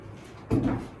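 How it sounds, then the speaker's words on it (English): A newly installed cabin door, still without its doorknob, is swung shut with a single muffled thud halfway through, close by and moderately loud, with no speech. "Still got to put the doorknob in, but shut it."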